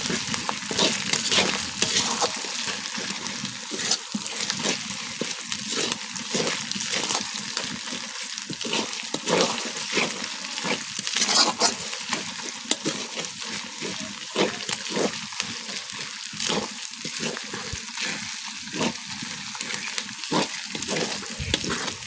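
Ginger, onion and garlic fry in a pan with a steady, close sizzle and occasional stirring scrapes, holding a continuous crackle for the whole stretch without any voices.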